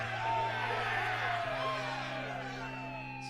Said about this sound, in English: Smooth's people let out a hearty cheer.